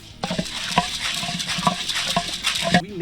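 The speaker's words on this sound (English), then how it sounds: "We made this kettle corn machine ourselves." A homemade, welded kettle corn machine stirs popcorn in its hot kettle, giving a dense, continuous sizzling and rattling scrape with repeated metallic knocks from the stirrer, loud and close with no talk.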